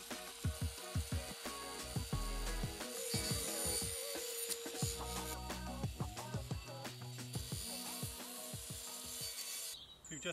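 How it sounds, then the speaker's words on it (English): Excess plastic wall sheeting is cut off at an off-grid build, giving a faint, close series of cutting and scraping sounds with irregular clicks and rustles throughout. "Next, it was time to cut off the excess wall plastic."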